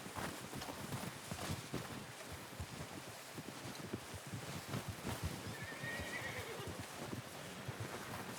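A horse in Red Dead Redemption 2 whinnies once, a short bright neigh rising over steady hoof clops and a constant outdoor wash of ambient noise, with no voices.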